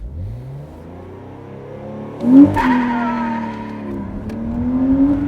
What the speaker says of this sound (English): way too much gas and a pop of the clutch. And this is how people spin tires